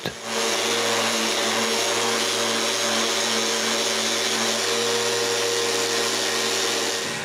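Power sanding of two cedar pieces glued together, a steady loud whirring motor drone with a broadband hiss that runs unbroken for the whole stretch, no voices.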